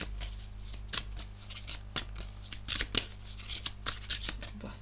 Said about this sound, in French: Je vais prendre une seule carte sans faire de coupe.